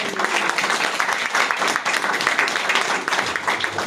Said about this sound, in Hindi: तो तालियां बजा लो लाइव